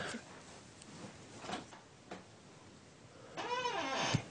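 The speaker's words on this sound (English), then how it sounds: "Hear that creaking?" A wooden chair creaks in a quiet indoor room. Faint knocks and shuffles come first, then a drawn-out, moaning creak bends in pitch near the end.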